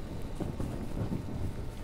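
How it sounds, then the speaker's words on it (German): Rumbling thunder with rain-like noise in the video game Dead Island, a steady broadband roar filling the whole short stretch without pause. "Wieso donnert es? Es ist wunderschönes Wetter."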